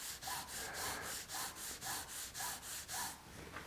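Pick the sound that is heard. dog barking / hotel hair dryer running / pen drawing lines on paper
pen drawing lines on paper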